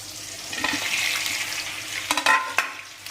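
Fish heads dropped into hot oil in a pan, a bright sizzling hiss that builds then sharpens into several crackling spits and pops near the end, alone and close.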